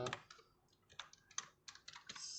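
Quiet typing on a computer keyboard at a desk during web app coding, with scattered bursts of key clicks including a few quick shortcut presses, fairly close and alone without talk.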